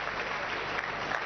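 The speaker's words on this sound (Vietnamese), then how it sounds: "Hãy vỗ tay cho Chúa Giêsu." A church congregation claps for Jesus, dense, even applause filling the short stretch with no break.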